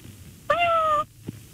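A human voice imitates a cat's meow: one drawn-out, wavering mew of about half a second, fairly loud and close, with brief pauses around it.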